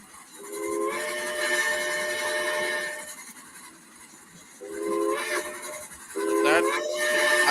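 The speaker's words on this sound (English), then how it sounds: "it's her new chime whistle. Here she comes." Steam locomotive sounding its new three-chime whistle as it arrives hauling a train, several long mellow chord blasts at moderate distance, with short breaks between them and no talk over them.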